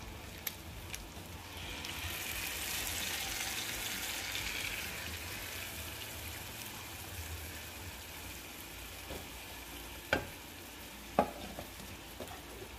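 Guajillo chile sauce poured over stewed beef and ribs and stirred in the pot, a steady wet sizzle and scraping that swells early then settles, with a few sharp spoon clinks near the end.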